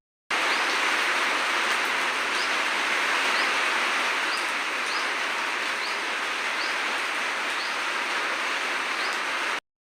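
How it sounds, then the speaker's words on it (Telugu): Heavy rain pours down in a steady, even hiss that stays loud and unbroken for the whole stretch, with no voices. "వర్షం పడుతుంది చూడండి మాకు ఎంత పెద్ద వర్షం పడిందో"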